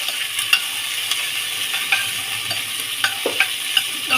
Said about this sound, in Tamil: இது நல்லா வதங்கணும். நல்லா கொஞ்சம் ப்ரௌன் கலரில் வரவும்